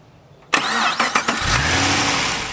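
A GM LS3 V8 from a 2009 Chevrolet Corvette or Pontiac G8 GXP fires up abruptly from near silence, then gives a few loud, sharp revs before settling into a steady, throaty roar close to the microphone.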